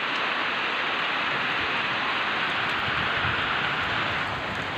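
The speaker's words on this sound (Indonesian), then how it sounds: "Nampak jelas hujan masih tetap menetes dan sangat deras sekali." Heavy rain pours steadily in Kumpeh district, Muaro Jambi, Indonesia, a dense, continuous hiss that stays loud and unbroken from start to finish with no voices.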